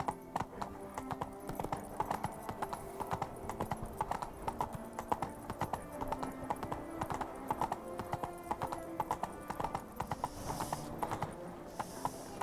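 Roach the horse trotting in Witcher III, hooves clip-clopping in a steady, continuous rhythm close by, with an occasional faint whinny and game ambience underneath.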